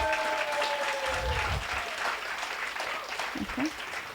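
A crowd at an entrepreneurship programme graduation applauds the men supporting the entrepreneurs, steady dense clapping throughout with a few faint voices underneath.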